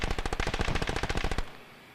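Rapid machine-gun fire from a Stranger Things finale scene, about a dozen loud, evenly spaced bursts in a steady rattling rhythm that cuts off abruptly, leaving a brief quiet tail.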